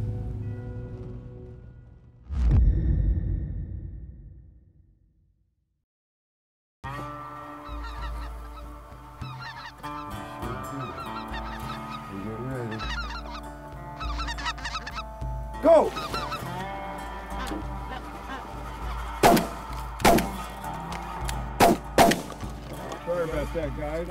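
Snow geese at a roost set up a dense, continuous chorus of honking calls, many birds overlapping loudly, after a short louder burst and a few seconds of silence, with occasional sharper calls rising above the flock.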